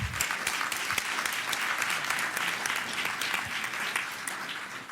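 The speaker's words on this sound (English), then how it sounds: "Let's give our Office Depot Teachers of the Month another round of applause." An audience applauds teachers of the month at a ceremony in Philadelphia, steady dense clapping from many hands, moderately loud and continuous throughout.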